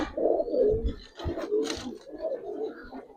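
A pigeon coos softly close by, a few low, throaty rolling calls in a short series, with the bird just released and no talking.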